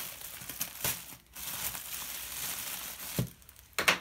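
Plastic wrapping on a brick of sock yarn crinkles and tears open in short bursts, with louder rustles near the end and no voices.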